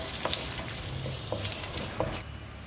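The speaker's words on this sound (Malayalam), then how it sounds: "ഒരു 3 ഉണക്കമുളകും ഒരു 2-3 ബേ ലീഫും കൂടി ഈ വെളിച്ചെണ്ണയിലേക്ക് ചേർത്ത് കൊടുക്കാം" Dried red chillies and bay leaves fry in hot coconut oil, a close, steady crackling sizzle with a few sharp pops and stirring clicks that drops off abruptly near the end.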